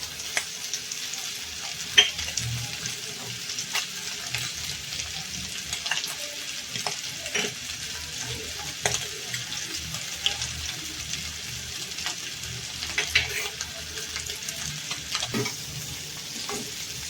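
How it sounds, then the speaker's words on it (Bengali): Boiled chicken stirred and fried in a pan, a steady soft sizzle close by with intermittent light scraping and clinks of the stirring utensil throughout. "তো চিকেনটা দিয়ে আমি একটু নেড়ে চেড়ে নিয়েছি"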